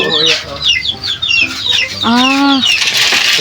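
Chickens cluck and chatter nearby in a busy flock, with a loud rising squawk partway through and rustling in the background.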